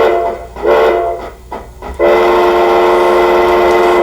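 A model train whistle played through a baffled speaker sounds in a few short toots, then one long sustained blast with a full, deep tone.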